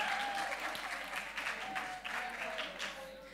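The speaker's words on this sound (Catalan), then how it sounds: "Un fort aplaudiment pels 18 anys" Audience applause marks the opening of a Catalan digital culture event, celebrating 18 years of the .cat domain. The clapping is brief and fairly faint, even and crowd-wide, and a few voices come through faintly over it.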